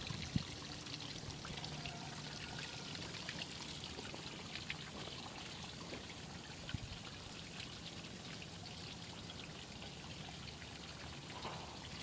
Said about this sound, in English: there's some hot water coming out, so it's going through the engine to cool it down